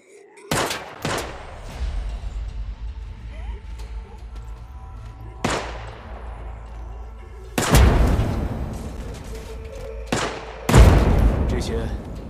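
Several heavy gunshot bursts and booms from the zombie survival video game Fading City. The shots come in irregular spurts over a low rumbling soundtrack, loud and punchy.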